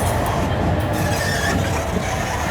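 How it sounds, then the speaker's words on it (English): A 3,300 brake horsepower diesel freight locomotive pulls a train out of a yard, giving a steady, loud, dense rumble with rolling wagon noise throughout and no breaks. "You can hear the power coming out of this locomotive"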